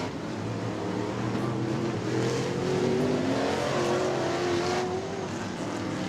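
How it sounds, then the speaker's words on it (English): Pro figure 8 race cars take hot laps at a weekly racing event in Auburndale, engines droning loudly and steadily with rising revs as cars pass close. "Pro Figure 8's taking some hot laps here."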